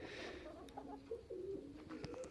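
Pigeons coo softly in a pigeon loft, low rolling calls in a few repeated phrases, fairly close, with faint background noise.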